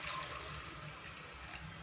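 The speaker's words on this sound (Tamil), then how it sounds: "அதுக்கு இதில் 3 டம்ளர் அளவுக்கு நான் பால் ஊற்றுறேன்" Coconut milk pouring into a pot of rice, a steady close liquid splashing and trickling that runs evenly throughout with no talk.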